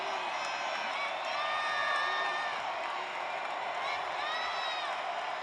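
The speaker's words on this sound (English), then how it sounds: "The crowd and M.M. Roberts making some noise." A stadium crowd roars in the video game NCAA Football 2025 during Troy at Southern Miss at M.M. Roberts Stadium, with sustained cheering and whoops rising and falling under a commentator's voice.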